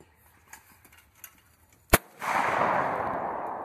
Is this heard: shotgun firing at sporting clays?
yes